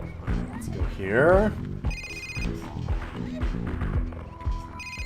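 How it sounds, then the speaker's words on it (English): A phone rings with short repeated electronic tones under loud talk and a retro MS-DOS space game soundtrack. "the phone's going off"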